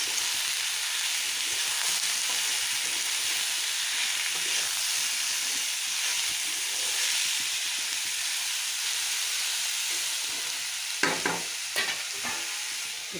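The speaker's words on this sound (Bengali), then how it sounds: "চাল কুমড়োগুলো সবগুলো একসঙ্গে সাঁতরিয়ে নেব" Chopped ash gourd seasoned with turmeric and salt sizzles and fries in a pan, a steady close hiss with a few stirring scrapes near the end.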